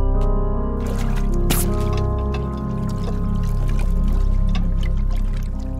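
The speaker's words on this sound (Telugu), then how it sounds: "ఆ వాటర్ని డ్రైన్ చేయండి." Water pours and trickles steadily as it is drained, a continuous liquid gush lasting several seconds under a tonal musical score. No one speaks over it.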